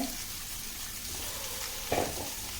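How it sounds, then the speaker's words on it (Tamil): Bitter gourd and plenty of onion roast in a pan over a low flame, a soft, steady frying hiss with one brief louder stir or knock near the end, no talking. "இப்போ இதை வந்து அப்படியே சன்ன அனலில் அப்படியே ரோஸ்ட் பண்ணிக்கணும்"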